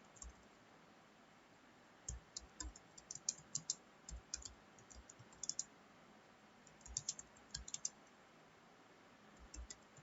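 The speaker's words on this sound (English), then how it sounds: "now we'll type the program" Someone types an HTML program on a computer keyboard, producing quiet, irregular bursts of key clicks with short pauses between runs.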